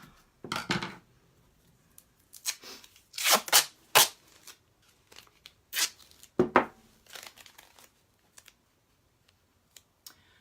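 Excess tape being trimmed from a bulletin board made with an old picture frame, a few sharp rustling snips and tearing bursts spaced by quiet pauses, close to the mic, no speech.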